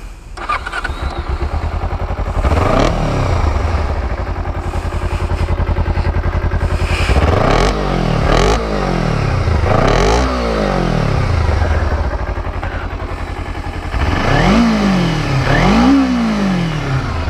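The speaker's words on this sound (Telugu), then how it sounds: "so let me start it so ఇది ఏంటంటే 2 cylinder engine so engine sound కూడా కొంచెం డిఫరెంట్గా ఉంటుంది" A Kawasaki Ninja 250R two-cylinder motorcycle starts up and idles loudly close by, then gets revved in a series of sharp rising-and-falling throttle blips, with two quick revs near the end.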